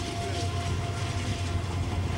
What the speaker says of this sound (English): there goes the train all the time